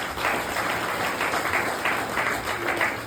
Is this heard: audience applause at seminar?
yes